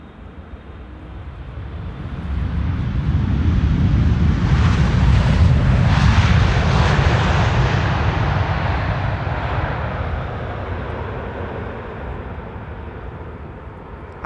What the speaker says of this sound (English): Atlas Air Flight 5421 next to land here. It's a 7478 arriving from Miami, Florida.